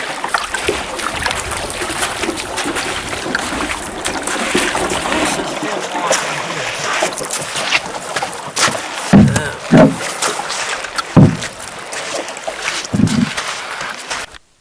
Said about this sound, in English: It's a very calm, sunny morning as we paddle up the Owyhee River.